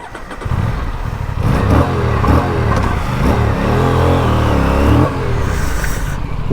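An Aprilia Tuono 457 motorcycle, a liquid-cooled two-cylinder 457 cc engine, idles, then revs up and down several times, its pitch rising and falling, loud and close.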